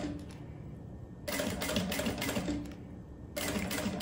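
Sewing machine stitching with a thick size 21 needle while making a wallet, running in two loud bursts of rapid mechanical clatter separated by a quieter pause.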